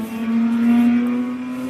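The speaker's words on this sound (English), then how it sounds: "Who's that revving their engine up out there?" A car engine revs with a steady low drone, held fairly loud and swelling slightly before easing back.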